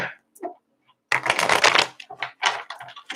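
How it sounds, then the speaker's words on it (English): A tarot deck is shuffled for a zodiac spirit reading, with a dense rapid riffle of cards up close followed by a few shorter flicking bursts, loud and crisp with brief gaps between. "One more shuffle."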